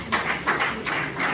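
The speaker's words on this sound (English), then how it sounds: "Please, let's keep clapping as it comes to the program." An audience at a public program on drug abuse among youths claps for a speaker, a few quick bursts of hand claps at moderate distance, with no talking.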